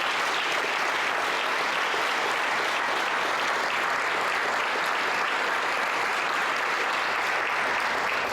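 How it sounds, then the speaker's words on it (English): A large audience at a chamber of commerce scholarship awards ceremony gives sustained, dense applause for scholarship recipients and educators, a steady loud wash of clapping with no talk. "Let's give one more big round of applause to our 2026 scholarship recipients and educators of the year."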